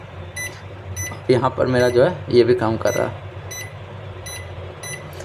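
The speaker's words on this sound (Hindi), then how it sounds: "आपको बजर का आवाज़ सुनाई दे रहा होगा" An air conditioner's circuit board buzzer chirps in short, regular high beeps during a remote-control test on a Hitachi unit, the repeated beeps continuing through and after a man's speech.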